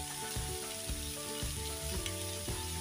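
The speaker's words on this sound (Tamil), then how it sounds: "கூட்டுக்கு தாளிச்சிருக்கேன் எண்ணெய் ஊற்றி கடுகு சிறகம் போட்டுட்டேன்" Mustard seeds, onion, tomato and curry leaves tempering in hot oil for a South Indian kootu, crackling and sizzling loudly and continuously up close with repeated sharp popping spatters.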